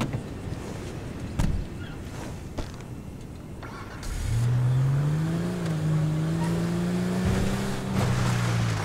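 A Toyota Land Cruiser V8 in GTA V starts up and drives off, its engine note rising steadily to a sustained hum after a few earlier knocks and clatters.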